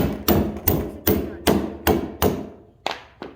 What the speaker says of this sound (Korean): 망치를 이용해서 두드려 주시면 껴줄 수 있습니다